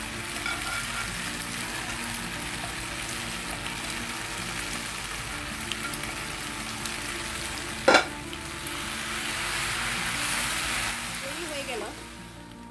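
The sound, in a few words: frying and stirring scrambled eggs into pasta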